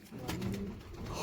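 Very large pigeons coo close by in a short, soft, throaty burst of low rolling notes, fairly quiet and heard on their own.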